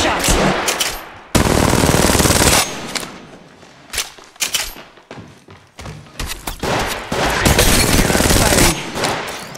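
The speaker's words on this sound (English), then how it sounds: "I'm taking shots." Gunfire in the mobile battle royale game Apex Legends Mobile, played on an iPad, comes as loud automatic bursts and rapid volleys separated by brief pauses, close and dominant.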